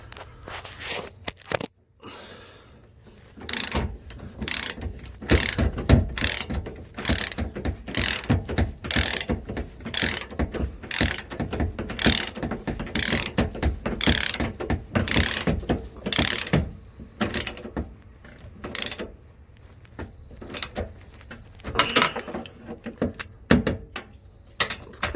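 A ratchet tightening fuel sending unit bolts on a 2005 Nissan Frontier: a long run of close, loud clicking strokes in a fairly steady rhythm, each crisp ratcheting burst separated by short pauses, with no talking.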